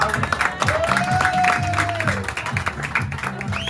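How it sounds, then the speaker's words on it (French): An audience applauds a couple being welcomed at a celebration, continuous crowd clapping under background music and a short spoken voice, fairly loud and steady throughout. "Applaudissez-les encore plus."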